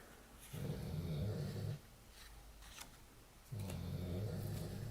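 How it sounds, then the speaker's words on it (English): A dog snores in a quiet indoor room, two long rumbling snore breaths a few seconds apart with a softer pause between, fairly close and moderately loud against a low background hiss. "There's a snoring dog in the room, as usual."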